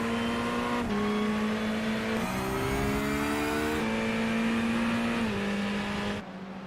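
Several GT3 race cars in an iRacing league event at Circuit of the Americas roar past in a close pack, loud steady engine tones shifting pitch as one car overtakes around the outside, continuous for about six seconds before cutting off.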